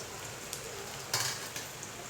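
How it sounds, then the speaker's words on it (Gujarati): Bitter gourd (karela) pieces fry in oil on a gas stove at medium flame, a soft steady sizzle with a few light clinks and a brief scrape of a utensil stirring in the pan. "અને હવે આપણે આને સરસ રીતે તળી લઈશું"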